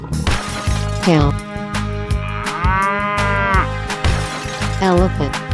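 Cow mooing in a 3D animal sliding game, with several loud, drawn-out moos spread across the stretch, heard close and prominent over a rhythmic, pulsing game music background.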